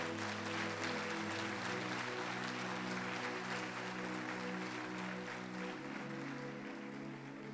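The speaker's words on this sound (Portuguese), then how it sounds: "Pode aplaudir o Senhor." Congregation applauding in church, a steady sustained wash of clapping that holds evenly throughout, with a faint sustained tone underneath.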